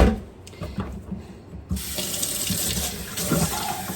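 Water runs from a kitchen tap into a container, a steady close rush that starts softly and then opens up to a full, bright flow for several seconds with no talking.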